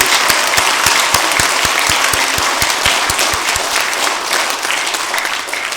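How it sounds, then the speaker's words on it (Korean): Sustained applause from a church congregation at a Sunday service, dense and even throughout, with a few sharp nearby claps standing out in a regular beat, loud and close with no one talking. "영광의 박수 올려드리겠습니다"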